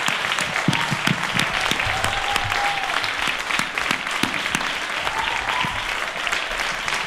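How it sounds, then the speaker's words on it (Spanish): Audience applause at a live improvised verse event, a steady, dense clapping from a full crowd that lasts throughout without a break. "Un aplauso para ellos"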